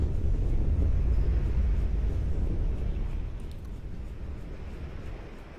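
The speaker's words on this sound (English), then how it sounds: "The wind coming up from a geothermal fissure." In the Selenitic Age of the game Myst, wind rushes up from a geothermal fissure as a deep, roaring low rumble that is strong at first and then gradually fades to a softer steady blow.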